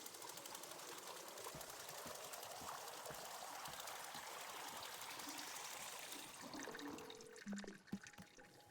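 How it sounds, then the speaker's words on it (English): Water runs steadily as a kettle is filled in the video game Wanderstop, a continuous splashing stream that stops near the end with a few small clunks and drips. "So fill this with water."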